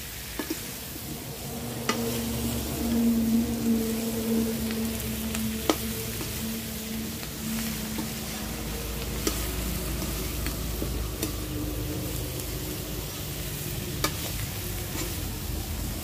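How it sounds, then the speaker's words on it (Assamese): A spiced jackfruit mixture with Kashmiri red chilli sizzles in a pan, a soft, steady frying hiss broken by occasional scrapes and clicks of stirring, with no voice over it. "এনেদৰে অলপ ভাজি ল'ম"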